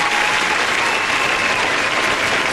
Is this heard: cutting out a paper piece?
no